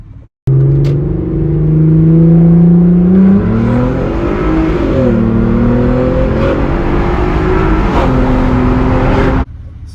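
A powerful VR6 engine in an Audi TT mk1 roars loudly and continuously up close, its pitch climbing, dipping and swelling through several revs before cutting off abruptly.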